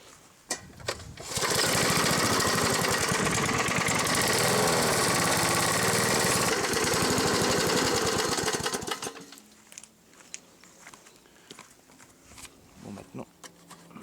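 Peugeot TA514 lawn mower engine running and warming up, a loud steady buzzing drone close by for several seconds before it cuts off, with people talking around it.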